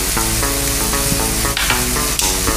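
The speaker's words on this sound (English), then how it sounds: "We're going to quickly season our dish with a tablespoon of soy sauce, a tablespoon of hoisin sauce, and also a tablespoon of chili paste." Soy sauce, hoisin sauce and chili paste hitting a hot pan, a loud, dense continuous sizzle and frying hiss close up, with faint stirring scrapes and no speech.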